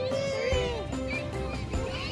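Drawn-out meowing from a ride-on toy cat in a park, several wavering, whining calls that rise and fall in close succession, fairly loud and near.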